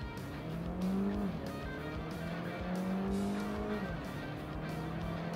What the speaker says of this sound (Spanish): voy a hacer mi ya habitual prueba de aceleración para comprobar en vivo y en directo cómo se las gasta.